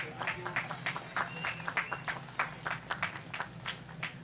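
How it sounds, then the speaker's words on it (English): A crowd at an outdoor walk event claps in bursts, a moderate, uneven patter of hands close by with a voice talking over it. "You guys should really give yourself a big round of applause for being here"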